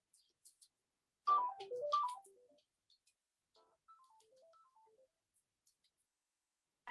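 Mobile phone ringtone playing a short electronic melody of stepped beeping notes, faint and fairly close, with quiet pauses between phrases.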